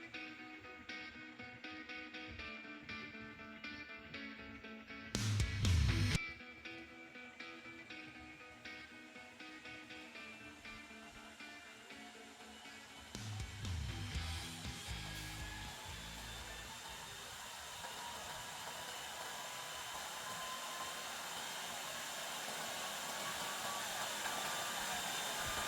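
A mini rechargeable electric fan whirs steadily at full speed, its motor hum rising and the airflow roar growing stronger partway through, with a brief bump of handling noise.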